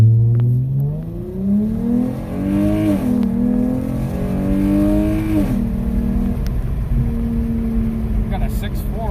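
A Dodge Challenger with aftermarket coil packs accelerates hard in a 0-60 run, the engine note climbing through rising revs with a brief dip at a gear change, heard steadily from inside the car.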